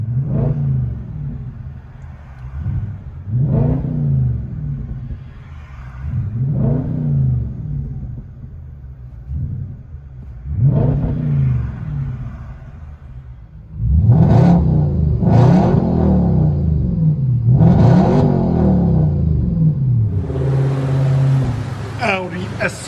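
Audi S4 with the 4.2L naturally aspirated V8 and straight-pipe exhaust, heard from inside the car, revving repeatedly in deep rising and falling pulls, growing louder and harsher in the second half with a rasp at the end.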